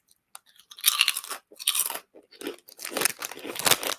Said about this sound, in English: They're crunchy.